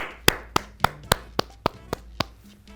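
Hands clap nine times at a steady, moderate pace, each clap sharp and close, with quiet gaps between them and no talking.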